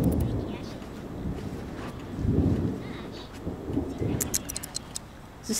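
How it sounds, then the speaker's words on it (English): Low, rumbling thunder rolls in several swells during a thunderstorm in the video game The Sims 3, with faint rain behind it, and clicks break in near the end. "what a thunderstorm"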